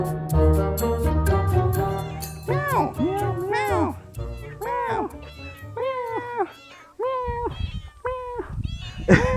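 Cats on Japan's cat island meow close by, a series of repeated rising-and-falling calls in quick succession, with some voices and background chatter around them.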